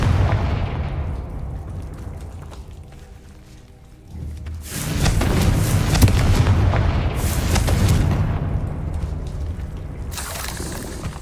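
Booming magical fireball blasts from the Confringo spell in the video game Hogwarts Legacy erupt in a couple of loud, rumbling bursts, with a quieter stretch before the first impact and no talking.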